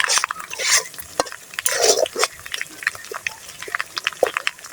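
Spices and soybean chunks being stirred and fried in a pan, with irregular scraping and sizzling strokes coming close and loud in quick bursts.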